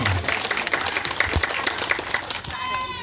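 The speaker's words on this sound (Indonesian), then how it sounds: "Tepuk tangan yang kuat untuk Bapak Simon." A crowd at a political campaign speech breaks into loud, dense applause, many hands clapping together in a continuous burst.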